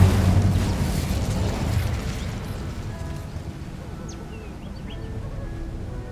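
The Incendio fire spell in Hogwarts Legacy erupts as a loud low whooshing burst of flame that rumbles and slowly fades over several seconds, with faint game ambience behind.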